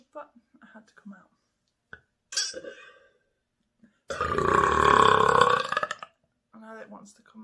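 A long, loud, rumbling burp after drinking Magenta Chest Gulp rolls on for about two seconds close up, preceded by quieter breaths and small throat noises, with soft murmuring toward the end.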